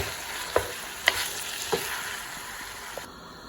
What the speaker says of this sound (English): mix well while you keep stir frying the meat